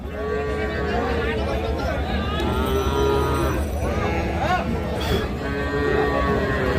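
Sahiwal bull calves low repeatedly amid a busy livestock market, with people chattering nearby and a steady crowd murmur throughout.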